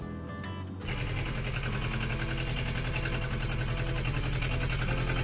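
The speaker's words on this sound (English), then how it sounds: "with the engine charging the new batteries" An engine starts up and settles into a steady, loud idle with a fast even mechanical rhythm while charging newly fitted lithium LiFePO4 batteries, the close running note continuing unbroken after a short quiet lead-in.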